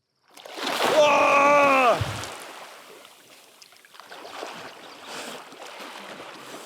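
A short, loud yelp falling in pitch gives way to rushing, splashing water as a hiker on the Pacific Crest Trail plunges into a wild swim, then the water settles into quieter sloshing.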